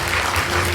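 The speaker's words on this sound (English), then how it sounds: "Please warmly welcome Dr. Munin Chaichalothorn with a round of applause" An audience claps to welcome Dr. Munin Chaichalothorn, a Mahidol University lecturer, onto the stage at a talk on direct and indirect veneers. A brief, steady wash of applause continues through the whole moment.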